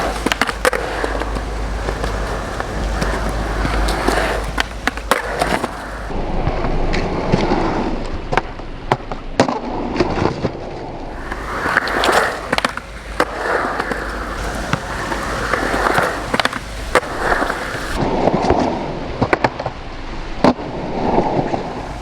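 Skateboard wheels rolling and clacking on a mini ramp as a rider does simple tricks, with repeated sharp impacts of deck and trucks against the ramp and continuous rolling noise throughout.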